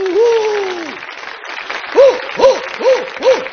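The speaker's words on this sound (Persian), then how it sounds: "آقا تشویقش بکنی" Audience applause at a live stage show, a steady wash of clapping with voices rising and falling over it in short repeated swells.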